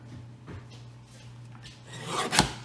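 A 3/4 inch strip is cut for small 3x3 note cards: a quiet rasping slide builds to a short, sharp cutting stroke near the end, with no talking.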